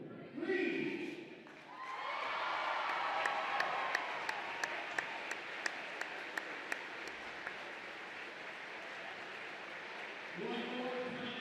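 Gym crowd at a high school basketball game applauding the unveiling of a 2024 IHSA state champions banner, a swelling roar of clapping and cheers with sharp rhythmic claps, framed by announcer talk at the start and end.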